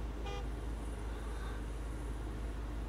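Car horn giving one short, faint toot from a distance over a steady roar of road and traffic noise, with no talk.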